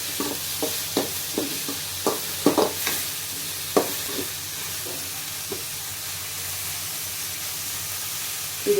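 Onions sautéing in a pan for a homemade idli fry, a steady soft sizzle broken by a series of scraping, knocking stirs in the first few seconds, then settling into a continuous even fry.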